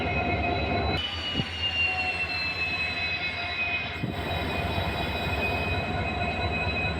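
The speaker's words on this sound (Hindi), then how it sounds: "सामने से OMS ट्रेन आते हुए आप देख सकते हैं जो कि शाहजहांपुर पहुंच गई है।" An OMS track-inspection train arrives at Shahjahanpur on the line from Pilibhit, a steady rumble of rolling wheels on rails with a high sustained squeal and a couple of sharp clunks, loud and close throughout.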